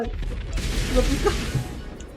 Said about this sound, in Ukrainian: На Росію пустили ракету.